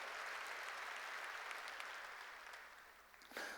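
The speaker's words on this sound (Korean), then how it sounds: "박수로 하나님께 영광 돌려야 될 거 아니에요" Congregation clapping during a church sermon, a dense steady wash of applause that tapers off toward the end, with a brief louder burst of clapping at the close.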